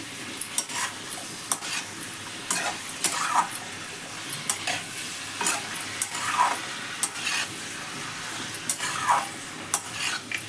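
Sliced onions fry in a pan for an Andhra-style chicken fry curry, with a continuous sizzle and repeated scraping and clinking of a spoon stirring them, close and busy throughout.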